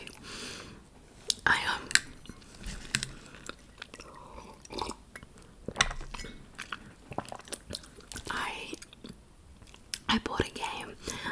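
Close, quiet chewing and crunching of Caesar salad in an ASMR lunch setting, irregular bites and mastication clicks with soft whispery speech between them.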